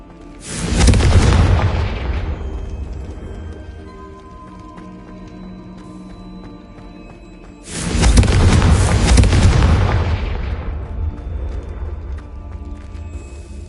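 Two large fiery blasts of the Confringo spell in Hogwarts Legacy, each a loud booming explosion with a long rumbling decay, the second landing about seven seconds after the first, with game ambience between them.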